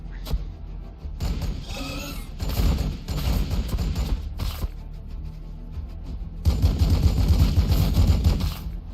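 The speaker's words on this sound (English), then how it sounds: "now you're about to get the full brunt of Space Marine Bolter Fire" Space Marine bolter fire in Warhammer 40k BattleSector, a steady, dense barrage of heavy shots and mechanical clatter that swells louder toward the end.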